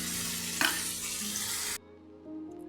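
Mutton sautéing in a pan sizzles steadily up close, with a brief clatter partway through, then the sizzle cuts off abruptly, leaving a quiet hum.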